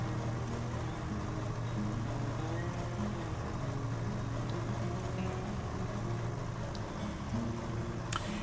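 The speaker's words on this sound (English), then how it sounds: "it sounds interesting listening to this motor. I've never heard an Ursus" Ursus tractor engine in Farming Simulator 13 running as a steady low drone throughout, continuous and fairly loud with a faint rumble underneath.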